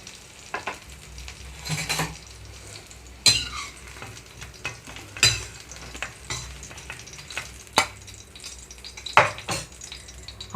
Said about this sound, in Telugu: ఆయిల్లోకి కట్ చేసి పెట్టుకున్న టమాటా వేసేస్తున్నాను